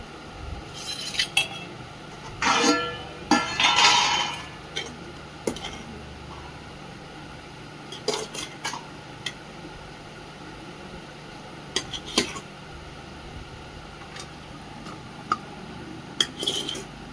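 Rice served onto plates at a home family meal, with steel dishes and cutlery clinking and scraping in scattered close bursts over a quiet room background.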